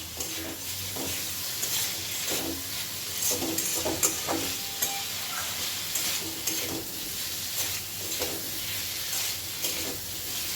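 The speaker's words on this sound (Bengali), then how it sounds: "দিয়ে দিলাম হাফ চা চামচ পরিমাণ চিনি আর একটু নাড়াচাড়া করে নেব" A spice masala with a half teaspoon of sugar being stirred in a pan over a medium flame for an ilish fish head dish, giving loud continuous frying with repeated scraping strokes of a spoon.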